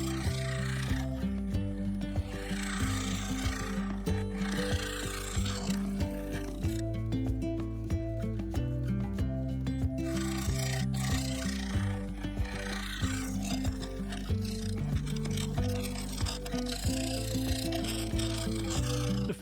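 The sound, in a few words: negative rake scraper refining inside of cherry bowl on lathe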